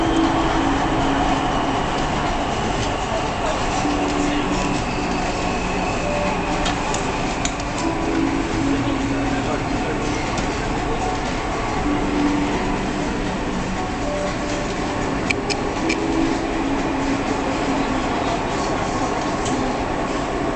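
A Dubai Metro electric train rolls steadily along its track, a continuous loud rumble with faint clicking from the wheels and no talk over it.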